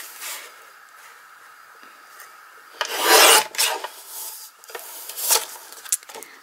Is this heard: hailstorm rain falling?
no